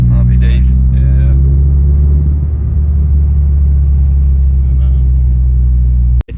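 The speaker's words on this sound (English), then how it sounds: "So we're gonna give it a couple of revs outside the car now." A Renault Clio 172 Cup fitted with a new aftermarket exhaust rumbles loudly and deeply close by, holding a heavy, throbbing idle that swells slightly as the engine is revved, with people talking faintly near the start.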